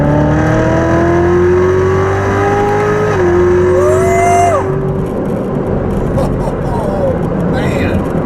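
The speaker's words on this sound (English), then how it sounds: "I love the sound that comes from that exhaust." A Chevrolet Corvette Z06 on its stock exhaust, engine revving loud and close with a rising and falling tone that drops into a rough idle burble, while people talk over it.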